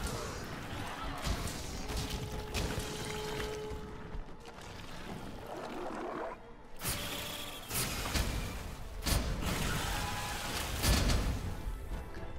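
A rushing flood of water pours across the screen in Monster Hunter World: Iceborne during a lance fight against Namielle, a dense, sloshing wash broken by heavy game impacts.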